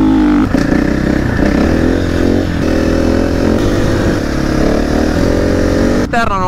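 An enduro motorcycle rides along during a rally, its engine droning loudly and steadily with repeated rising revs as the rider works through the gears, and a brief clatter near the end.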